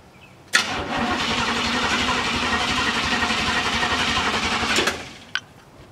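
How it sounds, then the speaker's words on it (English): An LS-swapped Chevrolet Caprice engine cranks and catches, then runs loud and steady at a rough idle for about four seconds before shutting off abruptly, followed by a brief click. "Try to start it up."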